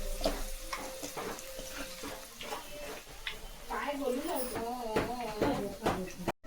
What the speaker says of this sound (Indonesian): ini kita goreng lagi ya teman-teman